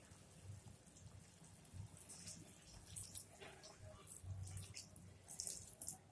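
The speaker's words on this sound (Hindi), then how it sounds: "और इस वक्त हम इसमें दूध डालेंगे" Milk being poured into hot sugar syrup for bread halwa in a home kitchen, a soft, steady liquid splashing and trickling with faint clinks, fairly close and without talk.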